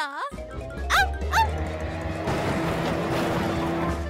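A cartoon dog barks in a quick pair of sharp yaps while chasing, followed by a rushing, noisy chase effect; the barks sound close and loud.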